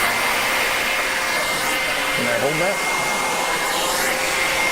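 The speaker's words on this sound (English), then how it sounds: "So this carpet's actually out of my car, so it probably will vacuum just fine because I've used this on this before." A vacuum cleaner runs on a car carpet at an auto detailing trade show, a steady loud whooshing drone throughout while people talk briefly nearby.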